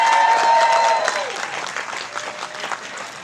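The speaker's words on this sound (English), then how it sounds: "give them a round of applause for being open for us tonight" An audience at a talent show applauds loudly, a dense wash of clapping that fades to scattered claps within about three seconds.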